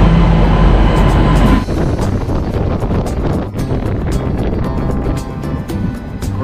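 Yashwantpur to Pondicherry train arriving at a station, a loud rumbling roar with wind buffeting the microphone, heavy low noise at the start and then a rattling run of wheel clatter with sharp clicks.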